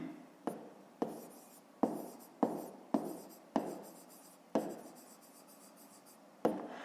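A pen writes by hand during a fifth-grade math exercise, producing close, distinct scratchy strokes in short bursts, each starting with a sharp tap and fading out, about nine in all with no talking.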